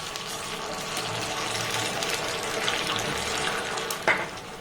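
Water pours steadily into a pot for a curry, a continuous close splashing stream ending with a brief clunk.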